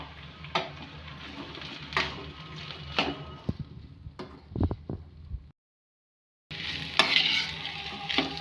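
Ivy gourd (tondekai) roasting in oil in a pan with fried onion and curry leaves, irregular spatula scrapes and clinks over a low sizzle, close by, with a short full silence midway, no talking.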